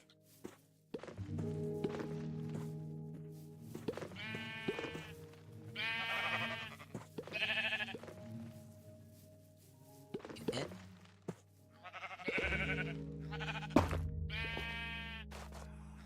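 Sheep on a farm in the video game RealmForge bleat in several bursts amid footstep-like thunks and low tones, fairly close, with gaps of quiet between calls.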